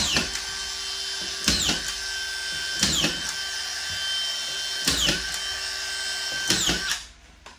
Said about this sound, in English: If you're putting up drywall yourself, collated screw gun is going to help a lot